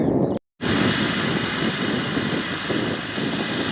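A tractor engine drones steadily in an open field during sunflower seeding, a loud continuous low rumble that holds throughout after a brief cut near the start.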